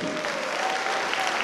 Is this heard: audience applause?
yes